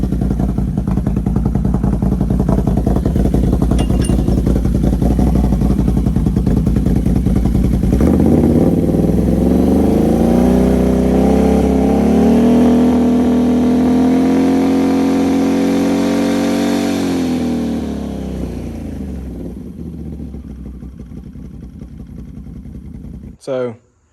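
A 2024 Can-Am Renegade XMR 1000R ATV with an ICON clutch runs close and loud, first idling with a rough clatter, then revving up and holding high before winding down, with a brief final burst at the end.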